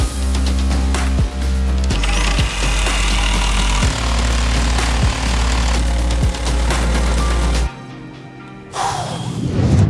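A jigsaw roughly cuts a 15 mm wood panel in a boat-interior joinery shop, a loud continuous buzzing rasp with brief hitches, then the saw cuts out and a softer clatter follows.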